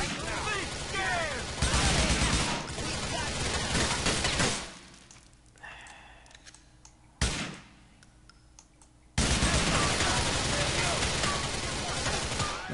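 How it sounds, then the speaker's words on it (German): Grand Theft Auto IV gunfire: dense bursts of rapid shots and blasts, loud and continuous, dropping to quieter clicks and thuds before the shooting resumes. "die ganzen Schüsse übertönen einfach alles"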